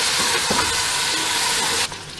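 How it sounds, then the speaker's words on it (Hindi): Mutton pieces frying in a pot over browned onions, a loud steady sizzle and hiss with some stirring, dropping off sharply near the end. "इसमें हम गोश्त डाल देंगे। बस 2 से 3 मिनट के लिए हम इसे फ्राई करेंगे।"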